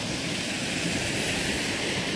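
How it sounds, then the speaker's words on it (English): Waterfall pouring down a slate hillside near an old quarry on a mountain walk around Cnicht, heard as a steady, dense rush of broadband water noise close by, with no talking. "Another waterfall."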